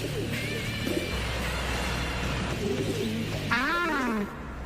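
Pigeons coo in soft, repeated, throaty calls amid a busy background with rising whistling tones near the end, in a French-dubbed cartoon.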